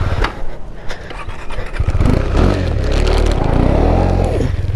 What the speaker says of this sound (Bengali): দেখো স্কিড কাটছে চাকা।